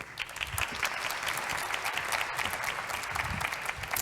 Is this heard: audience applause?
yes